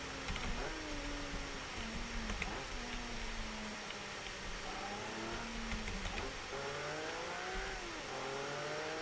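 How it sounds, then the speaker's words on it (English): A light sports car accelerating in the driving game BeamNG, its engine note climbing steadily through the gears with brief dips at each shift, a continuous moderately loud whine. "many cars, they stop accelerating fast after they hit a certain speed, but this one, it just keeps going"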